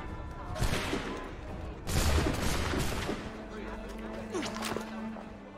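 Musket volley in Assassin's Creed III: a ragged burst of near gunshots cracks out, then a second heavier volley, with shouting voices and a low drone underneath.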